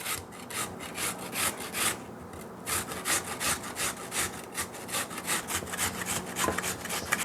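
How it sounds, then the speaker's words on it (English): Onion rubbed on the small side of a hand grater, a steady rhythmic rasping of repeated close strokes lasting several seconds, with no talking. "First grate the onion with the small setting of the grater."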